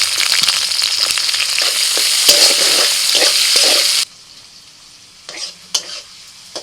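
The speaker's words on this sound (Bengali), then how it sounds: "ফোড়ন হয়ে গেলে দিয়ে দিচ্ছি পেঁয়াজ কুচি" Chopped onion hits hot oil tempered with cardamom, cinnamon, cloves, bay leaf and dried red chilli, giving a loud, hissing sizzle with stirring scrapes that stops abruptly, followed by a few quiet clinks.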